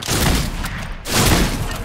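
Two bursts of rapid gunfire in Fortnite, a loud close spray of shots, a short pause, then another dense volley.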